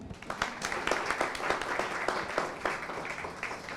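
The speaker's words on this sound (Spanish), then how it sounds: "¿Les parece si le damos un aplauso ahí?" A fairly quiet audience at a talk gives a round of applause, a dense crackle of hand claps that holds steady for several seconds without speech.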